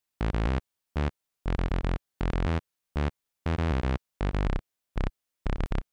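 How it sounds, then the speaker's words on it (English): Simple sawtooth-based synth bass patch from the Serum software synth, played as a series of short, punchy staccato notes in a rhythmic pattern with gaps between them, bright and buzzy with strong harmonics, alone. "This is just a simple sawtooth based sound out of Serum."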